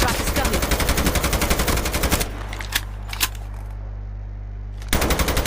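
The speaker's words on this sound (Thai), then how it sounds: "นั่นมันยิงจากไหนไม่รู้" Rapid automatic gunfire rattles loudly in Call of Duty Mobile, stops for a few seconds with a couple of isolated shots and a low hum, then resumes in a burst.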